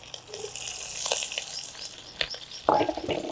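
A tempering of onion, green chillies and curry leaves frying in oil gives a light, patchy crackle that bursts into a louder sizzle near the end, close up with no talk.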